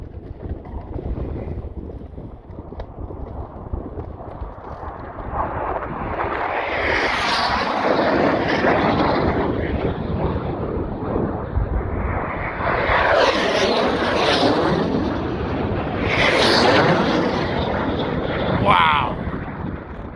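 Jet-class racing airplanes roar past the home pylon on an air race course in gusty wind, rising into loud surging passes with sharp high whines, heavy wind buffeting on the microphone between them.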